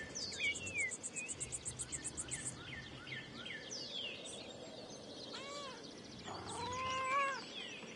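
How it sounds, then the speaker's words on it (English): A cat meowing in the video game Pentiment, several drawn-out meows rising over a steady chirping of crickets in the background, heard alone and fairly close. "Must pet the kitty."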